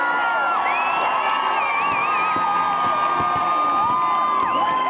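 A big crowd cheers, whoops and shouts as the Olympic torch reaches City Hall at the 2002 Salt Lake City Winter Games, a steady loud roar with children's shrieks rising above it and a few whistles, lasting throughout.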